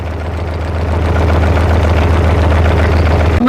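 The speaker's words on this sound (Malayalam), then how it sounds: "ഇതാണ് ബോട്ടിന്റെ എഞ്ചിൻ." A boat engine runs steadily near a dam, giving a loud, close, low droning hum with a constant throb and no break until it cuts off abruptly at the very end.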